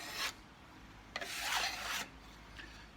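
A cabinet scraper scraping finish off a wooden guitar down to bare wood, heard as a few faint, dry rasping strokes, one brief and one longer, close up with no talking.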